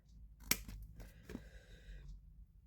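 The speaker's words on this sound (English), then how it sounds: "we're going to cut up these score lines here to this first score line. So just cut across" Scissors snip through papercraft card along the score lines of an advent calendar box, a few close, crisp cuts spaced apart with quiet gaps between.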